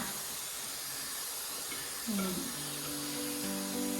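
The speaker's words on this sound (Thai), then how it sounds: "นี่แล้วก็สเปรย์เขาเลยนะคะสเปรย์เลยพรมน้ำให้ทั่วนะคะ" A spray bottle mists water over pea seeds sown for sprouting shoots, giving a steady soft hiss close by. A faint voice comes in partway through.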